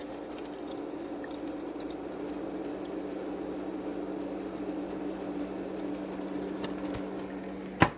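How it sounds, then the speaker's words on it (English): A steady, quiet trickle of water running into a countertop ice maker, with a low hum underneath, continuous throughout and ending in a small click. "if you listen, you can hear the water running in."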